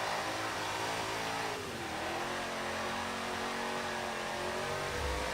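A racing car engine in Forza 7 drones steadily at high speed down a straightaway, a constant loud whine with a brief dip in pitch before rising again.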